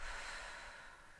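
Slow, deep diaphragmatic breathing during yoga relaxation in Shavasana, a steady close airy breath sound filling the whole moment with no talking.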